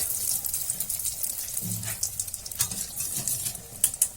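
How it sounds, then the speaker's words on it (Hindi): Dry red chillies and a pinch of asafoetida, added after cumin, crackle and hiss in hot oil for a dhaba-style curry pakoda tempering, a steady close sizzle with a few brief stirring scrapes. "सूखी लाल मिर्च डालूंगी और 1 पिंच हींग डालूंगी।"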